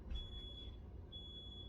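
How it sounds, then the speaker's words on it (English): A smoke detector beeps in a home where pasta is cooking, giving a faint high electronic tone in two long beeps with a gap between them over a low rumbling background. "that beeping noise, it's something called a smoke detector."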